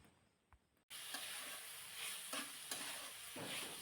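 Chopped tomatoes and spices sauté in a hot pan for a bread recipe, giving a steady close sizzle with bursts of stirring and scraping after a brief quiet start.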